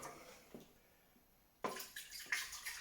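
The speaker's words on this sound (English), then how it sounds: "We'll just pour it in neat." Descaler liquid poured neat into the water tank of a Delonghi La Specialista Maestro coffee machine, a quiet splashing pour that starts abruptly after a faint knock and continues in short gurgling bursts.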